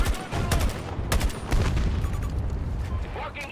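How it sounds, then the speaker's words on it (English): Explosions and heavy gunfire crash through a battle video game, dense bursts of rapid shots and booms rolling continuously, with a faint voice beneath the din. "Danger! Explosion!"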